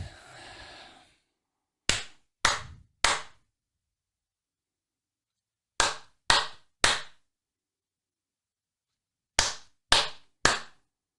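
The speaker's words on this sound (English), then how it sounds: "Claps." Three groups of three sharp, close hand claps spaced a few seconds apart in a quiet room, each clap crisp and isolated, preceded by a brief breathy sigh.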